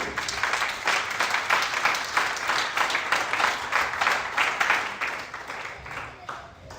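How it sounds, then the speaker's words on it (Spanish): A church congregation applauds during a sermon, a loud rhythmic wave of clapping with visible individual claps pulsing through several seconds before fading out near the end. "Denle un aplauso al Señor."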